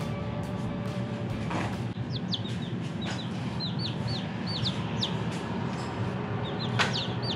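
Young five-day-old chicks peep in repeated short, high rising chirps, several birds overlapping in a steady chorus over a low, constant background hum.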